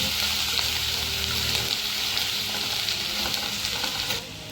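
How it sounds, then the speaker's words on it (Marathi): Green chili paste sautéing in hot oil in a kadhai, a loud, dense, steady sizzle heard up close that drops off slightly near the end, with no voices. "तेल छान असं गरम झालं की यामध्ये आपल्याला हिरवी मिरचीची पेस्ट टाकून घ्यायची आहे, तर तिला छान असं परतून घ्यायचं आहे"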